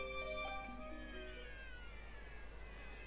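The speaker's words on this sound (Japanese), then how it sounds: "あれ、猫がいるよ。" A cat meows in the Nintendo 3DS role-playing game Bravely Second, a short synthesized-sounding call over steady game music with tonal layers, no talk heard.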